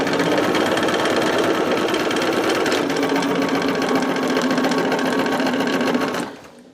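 A sewing machine runs steadily for about six seconds, stitching pieces together from top left to bottom right, a dense continuous mechanical whir that stops abruptly at the end.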